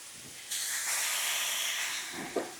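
Fajita steak sears on a hot flat-top griddle and bursts into a loud, broad hiss of sizzling. It starts abruptly and holds steady, with a brief clatter near the end.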